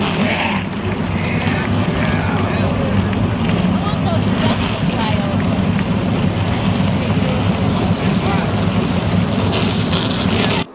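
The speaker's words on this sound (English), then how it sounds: "Drivers, start your engines." Loud, continuous engine roar from several race car motors starting and rumbling together in a racing video game, a dense droning mass that holds steady throughout.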